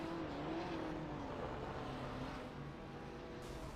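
A race car's engine in a sim racing game drones loudly and steadily through an amateur endurance race at Sebring, its pitch wavering slightly as the car does burnouts, with no talking.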